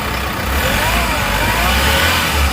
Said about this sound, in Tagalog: I-RPM na natin muna saglit.